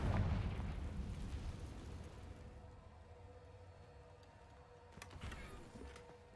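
A Confringo fire spell blast in Hogwarts Legacy, one deep booming explosion at the start fading into a long low rumble, with a sharp crackling burst near the end.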